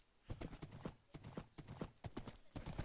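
Horse hooves clip-clop steadily in the video game Minecraft, a rapid run of close, crisp knocks in uneven groups with no speech over them.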